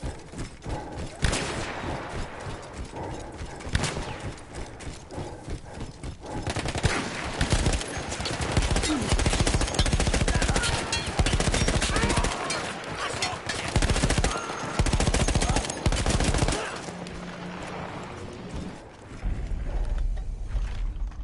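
Battlefield 1 mounted machine gun taken over from Austro-Hungarian crews, firing long, loud, close automatic bursts amid a dense roar of battle, with mechanical clatter and quieter stretches near the start and end.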